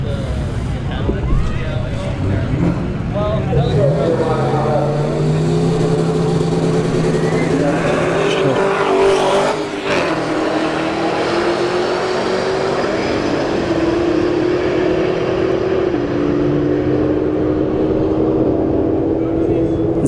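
Drag race at a Bradenton motorsports park street heat test-and-tune between a ZL1 Camaro and a Cadillac CTS-V, engines roaring loudly and continuously with rising tones as they accelerate down the strip, crowd and wind noise mixed in.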